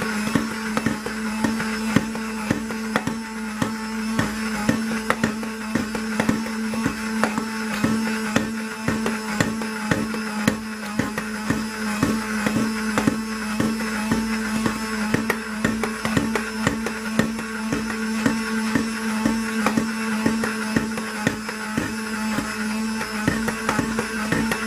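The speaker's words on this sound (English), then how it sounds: "I am going to stick blend through all the stages" A stick blender whirs steadily through a batch of hot process soap, a continuous motor drone with a steady hum and faint rhythmic chopping, close and alone without talk.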